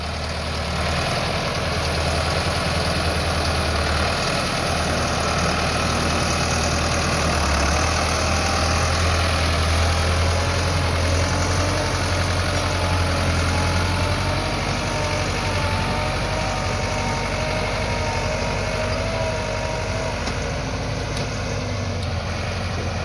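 Massey Ferguson MF 375 tractor engine running in a wheat field, a steady loud low diesel drone with a slight rise in pitch midway, no talk.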